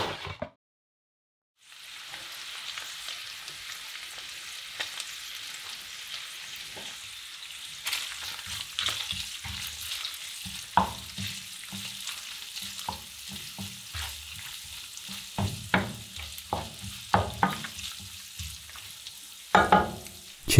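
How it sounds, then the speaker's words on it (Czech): Garlic frying with bacon in a pan while being stirred: a steady sizzle with scraping stir strokes and clinks, close and moderately loud, no talk. "to je ta správná chvíle přidat do slaninky česnek, který jenom opravdu lehce zarestuju"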